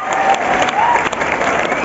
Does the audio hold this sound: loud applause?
yes